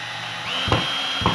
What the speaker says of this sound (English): And then you can drill all the way through.